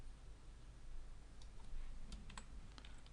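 Someone types a search phrase on a computer keyboard, a quiet run of light key clicks with a few sharper taps toward the end, close and otherwise undisturbed.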